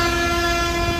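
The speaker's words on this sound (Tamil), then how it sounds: "ஏதோ ட்ரெயின் ஹாரன் அடிச்ச மாதிரி இருக்குங்க." Loud, sustained multi-tone horn blast from a speeding private bus between Cuddalore and Pondicherry, its piercing chord resembling a train horn, held steadily and close with rumbling road noise beneath.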